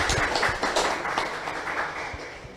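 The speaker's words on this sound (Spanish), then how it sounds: "Sí, por favor, aplausos." An audience at a constitutional law panel breaks into applause, a dense patter of many hands clapping at moderate volume that fades slightly toward the end.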